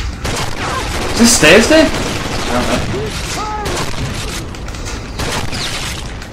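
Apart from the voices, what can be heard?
flashbang grenades going off in video game Rainbow Six Vegas 2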